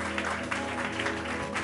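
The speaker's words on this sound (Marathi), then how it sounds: "जरा जोरदार टाळ्या प्रभूच्या बरोबर." A church congregation claps together in a short, dense burst of applause, steady and fairly even, heard briefly on its own.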